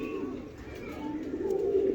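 A pigeon cooing softly at a distance, low rounded coos that rise toward the end over faint background noise.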